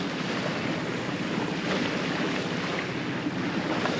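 A sailboat under motor power at sea on a passage from Greenland to Iceland gives a continuous broad rush of wind and water, steady and moderately loud, with no voices.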